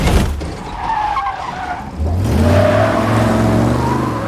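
A car in an action film skids with squealing tires and strikes a man, a sharp screech followed by a loud engine surge that roars on close and heavy.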